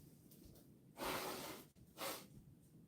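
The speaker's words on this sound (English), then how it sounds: "Let me blow my nose real quick." Two forceful nasal blows, like someone blowing their nose into a tissue, quiet and close against a soft background hiss.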